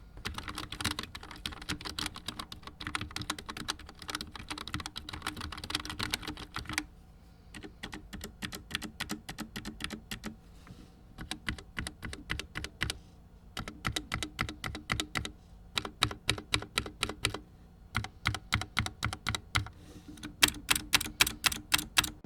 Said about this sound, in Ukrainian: Якщо любите, щоб клавіатура не видавала той самий клік при натисканні, який видають більшість механічних клавіатур